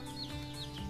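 A chicken clucks repeatedly in short, rhythmic bursts over a steady background hum, close by and moderately loud.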